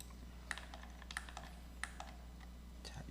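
Scattered sharp clicks of a computer mouse while drafting a 2D drawing in Autodesk Inventor, close by, several spaced irregularly over a low steady hum, with no talking.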